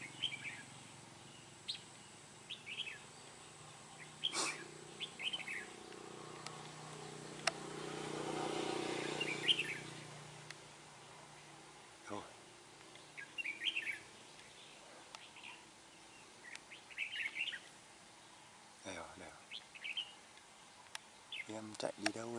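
A red-whiskered bulbul singing in short, bright chirping phrases repeated at intervals, moderately close, with a passing vehicle swelling briefly in the background.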